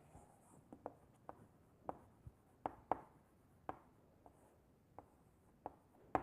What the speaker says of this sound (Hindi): तो F21 वेक्टर जी, ये माइनस इधर लिख लेंगे